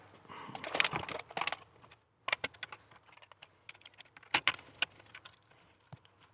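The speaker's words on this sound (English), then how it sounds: "let's put it back in its case and try that keyboard as the final part" Keys on a ZX Spectrum home computer keyboard are pressed during testing after a repair, giving irregular clusters of soft plasticky clicks and taps with brief pauses, close and quiet.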